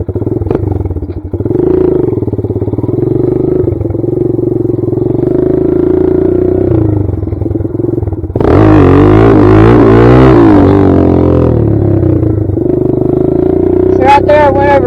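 A Kawasaki KLX140 dirt bike idles and revs during wheelie practice, its engine droning loud and near, swelling into a harder rev partway through, with a person talking over much of it.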